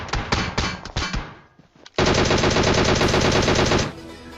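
Video game PUBG Mobile gunfire with an M4 rifle: a few separate shots, a short pause, then a loud, sustained automatic burst of rapid fire lasting about two seconds up close.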